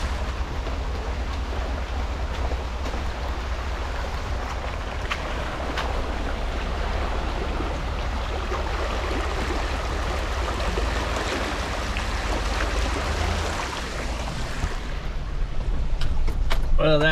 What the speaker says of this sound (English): that right there is the creek that's right behind the cabin